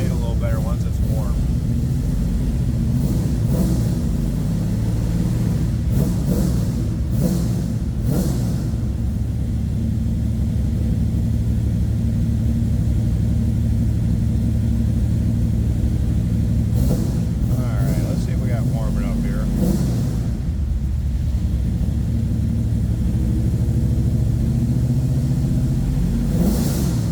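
A 1971 Chevrolet Camaro engine idles while warming up, a low, steady rumble with slight fluctuations that runs throughout; people talk over it at times.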